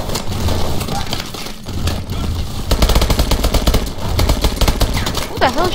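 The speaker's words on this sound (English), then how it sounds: "Who the hell is shooting me?" Rapid gunfire and bursts of automatic shooting in the Call of Duty: Advanced Warfare first-person shooter, loud and continuous with clattering impacts, game noise layered throughout.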